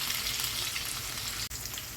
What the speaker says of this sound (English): Now throw in the meat and it should sizzle very loudly like this